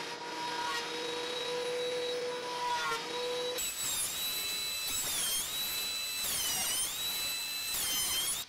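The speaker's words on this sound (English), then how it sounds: "when the planer blades come, you want it to skim the back first" Thickness planer skimming a walnut board on a planer sled, a loud continuous whining machine roar with shifting pitch as the board feeds through, growing harsher and louder partway in; no talking.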